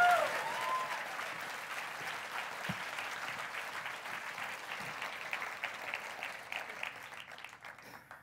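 A theatre audience at the FameLab International final in Leiden applauds and cheers loudly, a dense continuous wash of clapping that carries on for the whole stretch and fades slightly toward the end.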